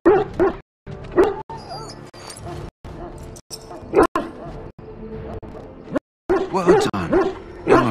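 A mabari war dog in the Dragon Age video game barks and whimpers in short repeated bursts, close and loud, with game dialogue spoken around the sounds.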